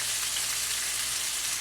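Fish sizzling in hot oil in a pan, a continuous close hiss with fine popping crackle and no breaks.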